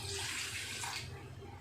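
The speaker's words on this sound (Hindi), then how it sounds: "उसमें आधा गिलास पानी लेना है आपको" Water pours steadily into a pan for gulab jamun sugar syrup, a continuous close splashing rush that lasts the whole short moment with no speech over it.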